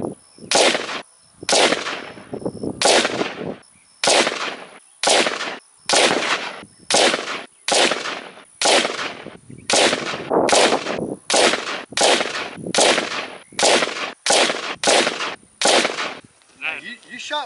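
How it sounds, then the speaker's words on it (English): Gunshots at a Texas outdoor gun range: about sixteen loud, sharp reports fired one at a time at a steady, unhurried pace, each with a short ring-out and near silence between. "You shot very well with it."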